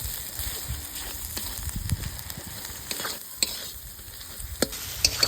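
Ginger-cumin paste and chili powder sauté in a pan for mutton ghugni, a soft sizzle under repeated scraping spatula strokes and occasional sharp clicks against the metal, fairly quiet throughout.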